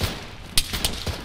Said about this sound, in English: they're shooting into the compound behind us